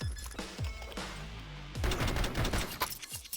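Gunfire in a Counter-Strike match on the Ancient map: several sharp, close gunshots spaced through the opening, then a rapid burst of fire with heavy booming reports.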